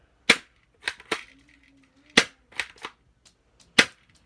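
A BB gun fired several times indoors, six or so sharp, snappy pops spaced irregularly with quiet gaps between, close and clear with no talking.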